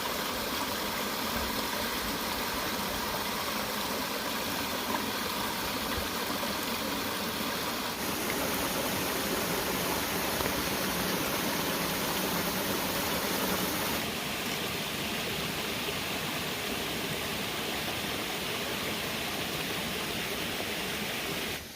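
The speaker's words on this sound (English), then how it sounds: "I'm pretty sure we are hearing a waterfall" A waterfall rushes steadily beside a forest hiking trail in the Dolly Sods region of Monongahela National Forest. The broad, unbroken roar stays loud throughout, with its tone shifting slightly as the listener moves, and no voices are heard.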